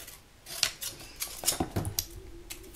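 Scissors snip through paper or card for a die storage box in a series of quiet, close, irregular cuts with soft rustling between them.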